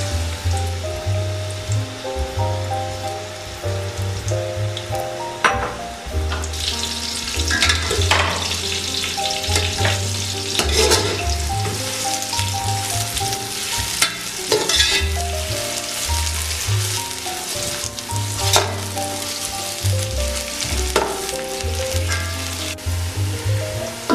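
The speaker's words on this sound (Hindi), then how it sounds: "इसे गर्म करने के बाद हम इसके अंदर प्याज को लाल करेंगे" Sliced onions fry in hot oil in a pan for pulao, sizzling steadily with frequent stirring scrapes and clatters, close and fairly loud, with no talking.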